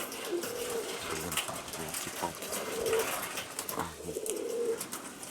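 Soft, low pigeon coos repeat in short phrases over a steady outdoor background, including rock pigeons, with occasional faint chatter of other birds.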